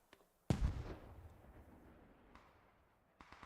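A 40 mm mortar round strikes in the video game Squad, one sharp close blast at once followed by a rumbling tail that slowly fades, with a few faint distant pops near the end.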